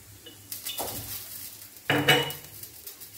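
Chicken 65 pieces with ground pepper being stirred in a pan, a utensil scraping and clinking against the metal in two clear bursts with a faint sizzle underneath.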